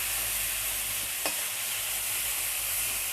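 Bay leaf, dried red chillies and whole garam masala spices frying in hot oil, a steady, close sizzle that runs alone and unbroken, with one brief clink or tap near the middle.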